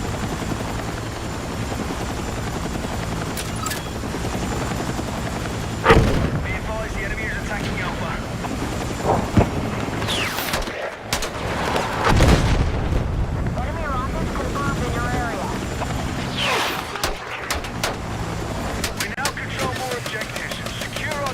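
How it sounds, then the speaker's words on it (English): Helicopters flying low and fast in a video game, a steady whooshing rotor drone with wind-like rushing, punctuated by a few sharp impacts and bursts, while a voice talks at times over the noise. "Low and quick. That's the idea with the helicopters"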